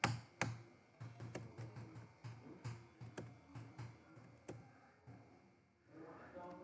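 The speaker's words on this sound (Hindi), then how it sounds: "एंटर एंटर मारते हुए बाहर आएंगे।" Repeated sharp taps on the Enter key of a computer keyboard during Tally Prime accounting entry, evenly spaced clicks at close range, with someone speaking quietly underneath.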